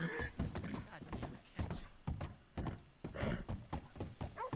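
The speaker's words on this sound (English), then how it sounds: "This horse is cursed." Horse hooves clip-clop in a Red Dead Redemption 2 roleplay scene, with uneven strikes running throughout amid frequent overlapping talk from players.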